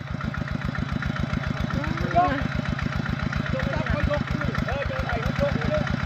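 A walking tractor engine chugs in a rice field, a steady rapid mid-pitched thumping idle that stays loud and even, with a brief voice rising faintly over it.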